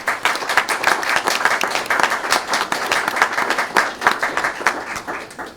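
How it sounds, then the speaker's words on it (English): Enthusiastic audience applause for a donor at a small business pitch competition, loud and dense with strong individual claps, sustained at an even level from start to finish. "Let's give them a round of applause"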